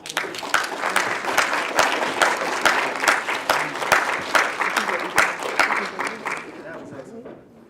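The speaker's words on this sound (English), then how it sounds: "Can we give these guys a round of applause, y'all?" A crowd at a 2015 student debate claps for the debaters, loud and close, with dense steady applause and a few sharp individual claps, a faint voice or cheer mixed in, tapering off near the end.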